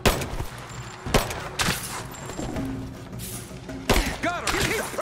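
Gunfire during a firefight in Rise of the Tomb Raider, scattered sharp shots and short bursts among thuds and battle clatter, with shouted voices in the mix.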